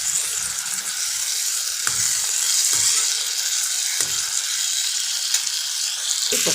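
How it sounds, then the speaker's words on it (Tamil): Cut tomatoes sautéing in a pan with a loud, close, constant sizzle and hiss, broken by a few soft stirring knocks, with no voices over it. "இதோட கொஞ்சம் வதங்கி தக்காளி நல்லா வெந்து வரட்டும்."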